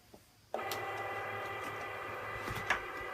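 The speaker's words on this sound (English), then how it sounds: "First thing the Cricut's going to do is go up to this top registration mark, and it's going to look for that registration mark" A Cricut Explore cutting machine starting up after a quiet moment, then running with a steady mechanical whir and hum as its carriage travels toward the registration mark, with a brief clack near the end.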